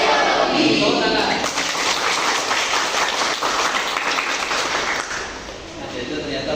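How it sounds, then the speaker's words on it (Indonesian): A secondary school sociology class claps in applause, a dense wash of hand claps mixed with voices throughout, fading somewhat toward the end. "Tepuk tangan."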